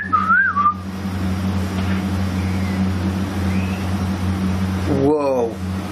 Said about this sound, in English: There was a whistle, but a voice, sort of, a voice before the whistle.